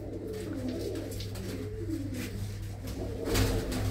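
Pigeons on a rooftop loft in Tangra village near Amritsar coo in low, throaty rolls, several birds overlapping close by against a constant low hum, with a slightly louder burst near the end.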